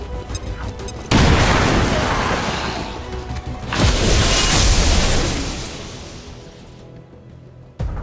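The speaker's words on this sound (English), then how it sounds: "Grenade out." A grenade blast in a video game lands as two heavy booming explosions, the first at once loud and close, the second a few seconds later, each followed by a long rumbling decay.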